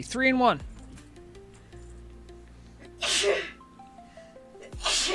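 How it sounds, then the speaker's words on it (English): A woman's sharp, loud sneeze bursts out at the start. Game sounds and chimes follow, and two more breathy bursts come later, with someone talking over parts of it. "I mean, she sneezed."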